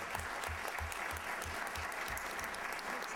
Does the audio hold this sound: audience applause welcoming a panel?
yes